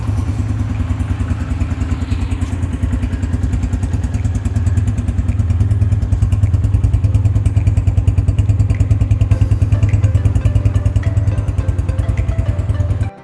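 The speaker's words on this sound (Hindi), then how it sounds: "जब तक आप लोगों को मैं बाइक का साउंड चेक करवाता हूँ" A motorcycle engine runs steadily and loudly up close, a deep rumbling idle with a rapid thumping pulse throughout and no voices.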